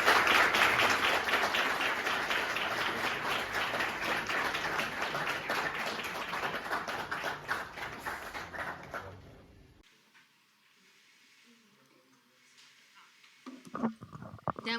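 An audience at a university debate claps steadily for about ten seconds in a hall, dense and fairly close, then the applause stops abruptly, leaving quiet room tone and a few faint shuffles and knocks.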